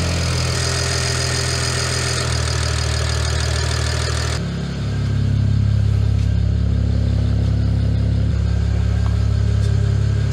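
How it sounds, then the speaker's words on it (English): BMW N54 car engine running with a miss when coming off idle, a steady uneven rumble that jumps louder partway through as revs rise, close and with no voices. "But usually when it came off idle, it started to miss."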